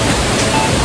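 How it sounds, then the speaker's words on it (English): Steady broadband rush of an artificial waterfall at the Orchidarium in Estepona, loud and close, a continuous roar with no breaks. "May artificial waterfall sila."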